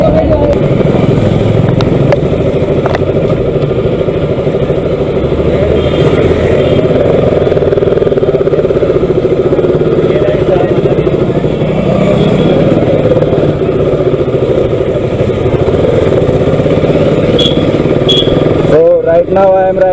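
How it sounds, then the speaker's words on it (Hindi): A 2016 KTM RC 200 motorcycle with about 16,000 km on it is ridden through Jaipur, its engine droning steadily and loud the whole way, with a voice talking over the ride. "Right now I am riding RC 200 जो दोस्त के लिए देखने के लिए आए थे।"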